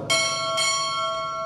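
A ship's bell struck twice during a U.S. Navy chief petty officer pinning ceremony, two bright metallic rings about half a second apart with a long shimmering decay, loud and close with no talk.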